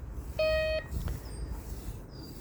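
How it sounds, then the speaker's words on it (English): A DR.ÖTEK MT-XR metal detector gives one short steady electronic beep, followed by faint higher chirps over a constant background hiss. "Why have you just beeped, DR.ÖTEK?"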